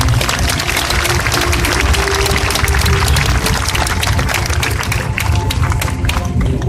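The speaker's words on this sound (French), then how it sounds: "Je pense que ça mérite un premier applaudissement." Applause fills the scene at a French civil security rescue and clearance unit demonstration: dense, loud, continuous clapping from many hands holds steady throughout with no talk over it.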